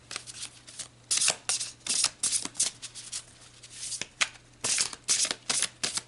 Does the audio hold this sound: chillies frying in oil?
no